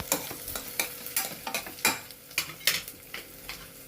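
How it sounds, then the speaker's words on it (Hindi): Cumin seeds and asafoetida sizzle in hot oil in a pan for rajma, with repeated scraping strokes of a spoon stirring against the metal over a soft, steady crackle. "ये जीरा कह रहा हूँ, थोड़ा सा हींग है, ऊपर से हींग डाल दिया।"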